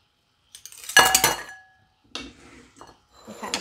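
Utensil clinking against a glass or metal bowl while star gooseberry flesh is pressed and mashed, a sharp knock followed by a few scraping, tapping contacts, close and distinct.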